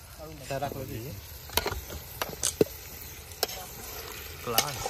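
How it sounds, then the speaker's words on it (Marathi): Fish sizzles on a hot tava over a fire, a steady hiss broken by several sharp utensil clinks and scrapes, with faint voices in the background. "ती या तव्यामध्ये आम्ही फ्राय करणार आहोत"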